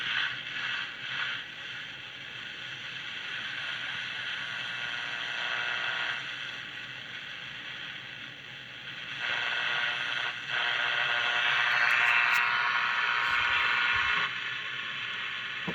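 Hissing, crackling AM radio static that shifts in tone as the dial moves, steady and fairly loud with no clear voice coming through.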